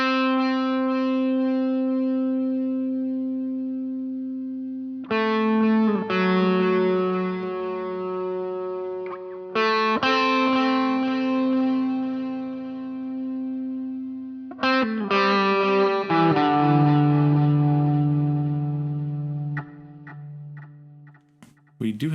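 Clean electric guitar chords through the Audio Assault RVXX amp plugin ring out with a smooth, sustained tone and light chorus shimmer, several strummed changes played one after another without accompaniment.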